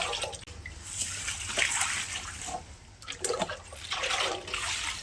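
Water splashing and pouring in uneven bursts, rising and falling over a few seconds, close by with no talking.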